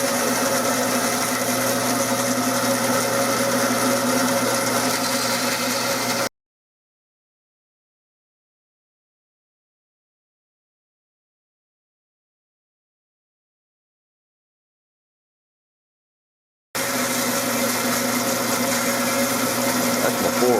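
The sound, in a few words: bandsaw cutting Turkish walnut gun stock blank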